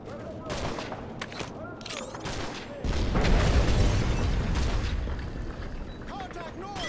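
Heavy gunfire and explosions in the video game Call of Duty Modern Warfare 3, a dense fusillade swelling midway into a loud, sustained roar of shots and booms, with radio chatter and voices under the din.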